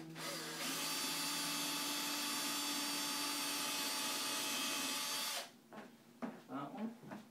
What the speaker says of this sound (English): I like to drill the hole